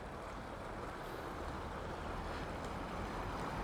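Swiftly running creek water at San Felipe Springs, a steady dense rush and gurgle filling the whole clip without a break, close and fairly loud with no voices.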